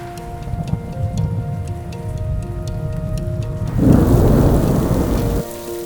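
Heavy rain and thunder during the rainy season in Lagos, rain drumming on a roof and running down windows, with a steady downpour that swells into a louder, denser burst of rain near the end, no voices present.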